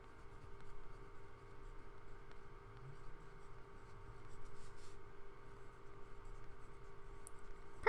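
Pen or pencil writing a flower name by hand in a nature journal, a faint, steady scratching close by with a low background hum and no talk.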